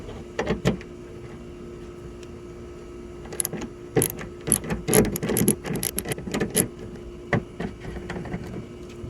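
Close-up mechanical clicks, ratcheting and rattling of T20 bolts being removed from an interior trim panel on a BMW E90, in short irregular bursts against a quiet room hum with no talk.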